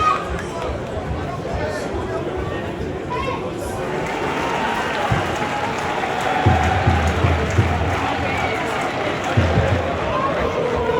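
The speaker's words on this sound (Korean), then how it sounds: "원정팀도 응원이 엄청납니다." Crowd noise at an English third-division football match, a broad steady roar of many supporters that swells slightly midway, with low rhythmic chanting or drumming under it.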